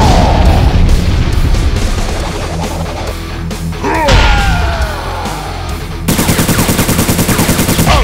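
Rapid gunfire from the Mortal Kombat video game: loud, dense bursts of shots and booms over game sound effects, ending in a fast machine-gun-like rattle.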